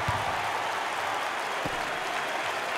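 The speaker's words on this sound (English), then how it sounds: "And the fans are going wild. Wow, listen to those fans." A basketball arena crowd at an NCAA game between Princeton and Duquesne roars and cheers in a loud, steady, continuous wash of noise.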